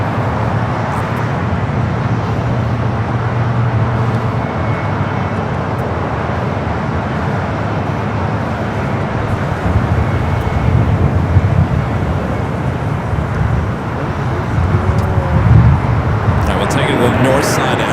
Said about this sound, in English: British Airways Flight 283 coming up from London Heathrow